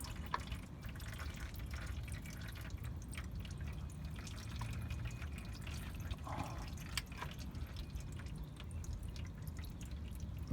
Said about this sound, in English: you can see some of it draining out already